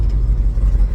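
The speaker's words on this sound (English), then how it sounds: "And then we're gonna move the other truck back." A heavy engine rumbles close by, low and steady with slight surges as the vehicle moves.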